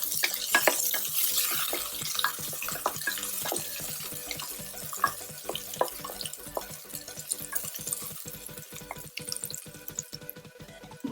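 Chopped shallots tumble into a hot pan with bay leaves for Chettinad mutton kuzhambu, giving a soft sizzle with repeated scraping and stirring clicks in steady rhythm, close and moderately loud, no talking.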